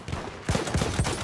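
Gunfire in the World War 1 shooter Battlefield 1 from a Glock 18 pistol: a rapid string of three or four close, punchy shots in quick rhythm, loud and alone.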